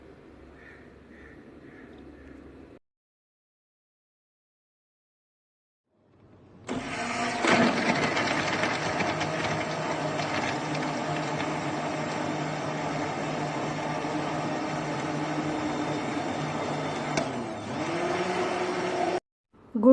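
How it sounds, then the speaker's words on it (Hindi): A blender whirs loudly and steadily for about twelve seconds, churning jaggery (gur) sharbat with ice cubes, after a brief quiet stretch and a short burst of other kitchen noise at the start. "आइस क्यूब्स डालने के बाद बहुत अच्छी तरह से ब्लेंड करेंगे।"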